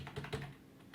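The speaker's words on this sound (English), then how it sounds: "So I'll just quickly type them in." Quick typing on a computer keyboard, a short burst of soft, rapid key clicks at close range, fading to quiet near the end.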